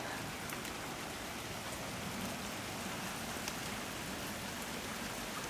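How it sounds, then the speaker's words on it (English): Steady rain falls outdoors on a chilly spring day, a dense, even patter of drops close by that continues without a break, with no voices. "it's raining"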